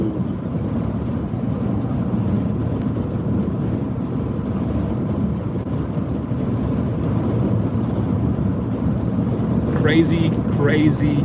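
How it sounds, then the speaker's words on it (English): Strong wind roars and buffets continuously with a low rumble, and a voice speaks briefly near the end. "Crazy windy."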